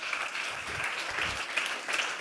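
A live audience at the Zurich Film Festival's 2023 Leading Females in Film event claps warmly for artistic director Christian Jungen, producing a brief, dense burst of steady applause with no talking.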